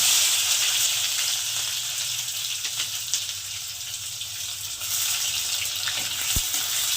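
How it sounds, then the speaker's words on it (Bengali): Chopped onions frying in oil with cumin seeds for a lentil and bottle gourd dish, a steady broadband sizzle throughout with a brief sharp clink near the end and no talking. "পেঁয়াজটা খুব বেশি লাল করে ভাজবো না হালকা একটু নাড়াচাড়া করে নেব"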